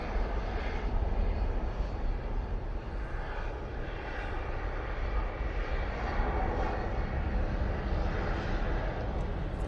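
An airliner departing Manchester Airport for Faro roars steadily and broadly, a loud continuous engine rumble filling the whole stretch without breaks.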